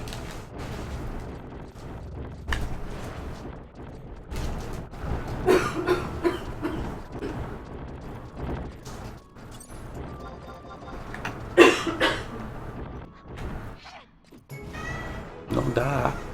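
A person coughs in short, harsh bursts at a home computer, with a couple of louder fits partway through, under steady talk and background game sounds.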